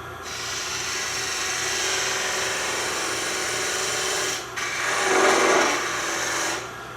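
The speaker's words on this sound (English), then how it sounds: "go back to the parting tool and undercut the edge of that ring" Parting tool undercutting the edge of a wooden mushroom ring turning on a lathe, a continuous close rasping scrape that dips briefly, then swells rougher before easing off.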